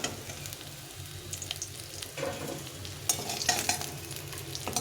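Tengra fish fry in hot oil in a pan, a steady close sizzle broken by clattering stirs and spatters, with no voices.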